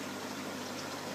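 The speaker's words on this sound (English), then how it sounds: "the water's basically draining straight down into the sump" Water gushes in a constant, dense rush down a pipe into an aquarium sump beneath a gravity-fed Deltec AP703 setup, a close steady splashing flow with no pauses.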